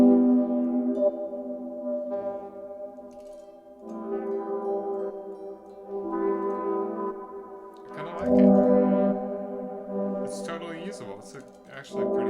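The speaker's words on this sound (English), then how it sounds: "kind of tremolo sounding granular effect" Granular synth effect patch with a tremolo character, built from a modular setup with parameters mapped to a controller, giving wavering, sustained pitched tones that swell and fade, growing grainier and brighter toward the end.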